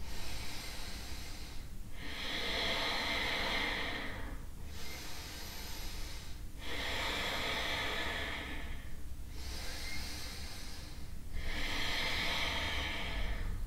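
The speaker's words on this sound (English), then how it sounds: "3 more deep breaths." Slow, deep breathing during a beginner yoga hold, close and steady, with about five long airy breath cycles, each rising and fading at an even pace, over a constant low hum and no talking.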